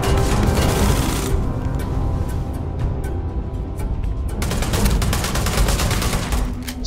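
Rapid volleys of gunfire in a Starfield space battle against ambushing space pirates, dense overlapping shots rattling on continuously, with a brief lull before another sharp burst of fire.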